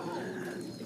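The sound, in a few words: English Magpie pigeon cooing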